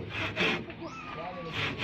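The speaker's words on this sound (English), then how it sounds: "Saw, this is hand sawing here" A hand saw cuts through wood during trimaran boat building, making steady, rhythmic back-and-forth strokes at close range, each rasping pass rising and falling in loudness.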